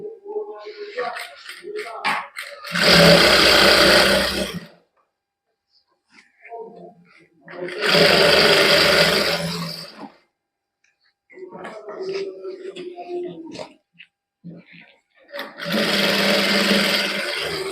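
Sewing machine stitching elastic into an umbrella palazzo in a tailoring boutique, running in three loud sustained bursts of a few seconds each, with someone talking in the pauses between them.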